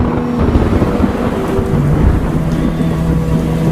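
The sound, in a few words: thunderstorm sound effect in horror story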